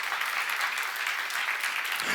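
A church audience at a seminar breaks into applause, a steady, fairly loud patter of many hands clapping together, with no voices standing out over it.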